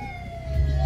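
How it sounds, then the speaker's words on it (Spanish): An ambulance siren sounds as a short, loud, steady electronic tone at an outdoor event, with low rumbling noise building underneath toward the end. "ahí donde está la sirena de la ambulancia"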